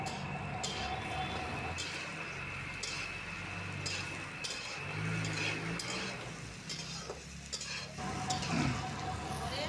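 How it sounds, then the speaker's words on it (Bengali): Onions fry in oil for a home chicken curry, making a constant close sizzle while a spoon stirs and scrapes the pan with occasional metallic clinks. "পেঁয়াজ দিয়ে নাড়িয়ে চাড়িয়ে খানিকক্ষণ পরে রসুন বাটা দেব, দিয়ে খানিকক্ষণ নাড়াবো।"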